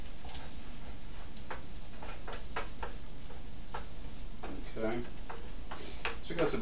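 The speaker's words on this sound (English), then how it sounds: "I am going to stir this a little bit, get that garlic going on." Garlic frying in a pan with onion and celery is stirred, a constant close sizzle under repeated scraping and clacking strokes of the utensil that grow busier toward the end.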